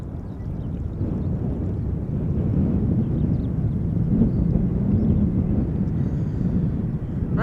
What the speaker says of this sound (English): And also inbound traffic. I think this is inbound. 737.